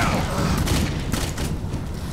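Pistol gunfire in the Jericho first-person shooter video game, a dense rattling fusillade of overlapping shots with booming low rumble, loud and continuous through the short stretch.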